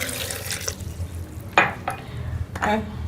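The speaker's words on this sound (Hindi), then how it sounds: "और इसमें हम ये जो है 1 गिलास पानी शामिल कर लेंगे।" A glass of water is poured into a blender jar holding cucumber pieces, making a few short splashy gushes and trickles with brief pauses between them.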